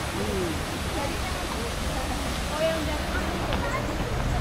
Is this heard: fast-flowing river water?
yes